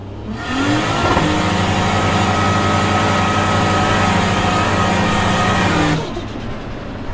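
An 800HP Ford Barra-engined FPV F6 ute revs hard in a loud, sustained wide-open pull lasting several seconds, its engine note climbing steadily before backing off, with no talking.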